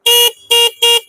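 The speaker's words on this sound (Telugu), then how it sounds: "ఈ రెడ్ బటన్ ఏంటంటే హారన్ అనమాట" Three short, loud electronic beeps from the red-button horn of a battery-charged toy tricycle, sharp buzzy tones in quick succession with brief gaps between.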